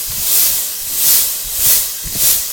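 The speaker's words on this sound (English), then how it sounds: "My oil is heated. I'm going to send in the pancetta" Pancetta goes into heated oil and hisses loudly, the sizzle swelling and fading in four rhythmic waves, up close.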